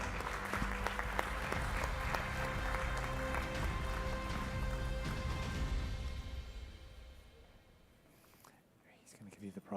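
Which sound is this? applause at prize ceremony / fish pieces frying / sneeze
applause at prize ceremony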